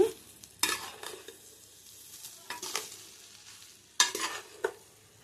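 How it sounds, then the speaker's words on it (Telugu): Fried rice with prawns is stirred in a pan with a spatula, producing several sharp scraping strokes over a faint sizzle, each stir a loud burst followed by quieter frying, close by. "మొత్తం రైస్ అంతటికి బాగా కలిపేసుకోవాలి."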